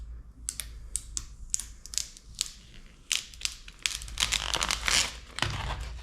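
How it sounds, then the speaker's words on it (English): Backing paper being peeled off a large applied decal, a run of crisp crackling, ripping bursts heard close up and alone, growing denser and louder toward the end. "just have to peel this off and you'll be left with your sticker"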